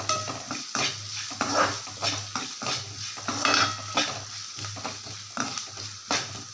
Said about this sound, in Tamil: வெங்காயம் கொஞ்சம் இதில் நல்லா வெந்து வரட்டும்